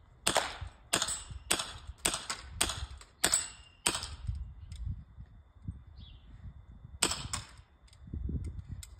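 Semi-automatic gun rated at 500 feet per second firing a quick burst of sharp, snappy shots, about eight close together, then a pause and two more cracks, with handling noise and low rumble between.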